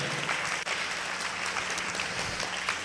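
A church congregation clapping loudly in unison, dense continuous applause filling the whole stretch with no talk over it.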